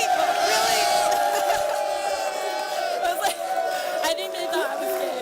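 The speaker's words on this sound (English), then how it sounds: "Cheer your loudest for whoever you think won" A studio audience cheers and whoops loudly and continuously, a dense roar of shouting voices that holds for several seconds.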